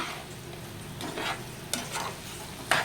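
Chicken curry frying in a pan, steady sizzle with occasional stirring scrapes and sharper crackles, close and continuous with no talk.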